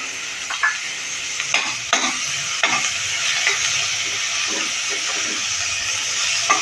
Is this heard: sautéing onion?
yes